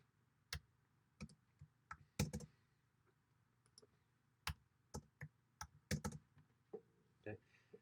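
Keys tapped on a computer keyboard to type spaces and a bullet symbol, a sparse irregular run of sharp close clicks with quiet gaps between them and soft room tone behind.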